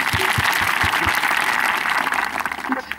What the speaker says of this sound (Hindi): तो सबके लिए जोरदार ताली हो जाइए